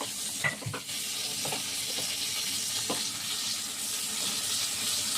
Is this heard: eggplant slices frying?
yes